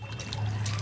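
Water runs into a new bathtub with a faint, steady trickling wash over a low hum, brief and continuous.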